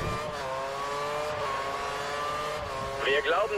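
An F1 race car engine screams at high revs in the F1 2013 racing game at the Indian Grand Prix, a steady whining tone with a climbing rev burst near the end, a voice faintly beneath.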